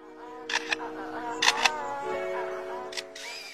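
A lyrebird copies camera shutters in three quick bursts of sharp mechanical clicks, spaced about a second apart over a steady background of tonal birdsong.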